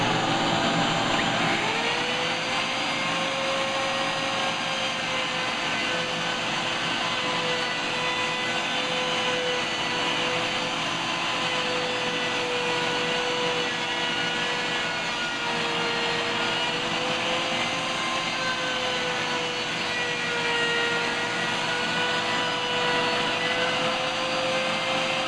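A handheld router cuts into wood during a house renovation, giving a loud, unbroken high whine that holds steady for the whole stretch, close up and with no talking.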